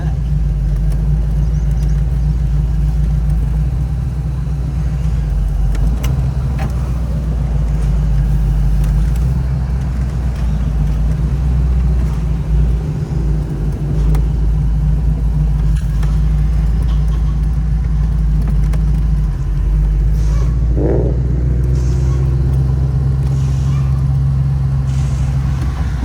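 A 1957 Corvette engine, a 4-speed car, idles steadily and loudly throughout with a deep continuous rumble and slight rev variations, people speaking intermittently over it.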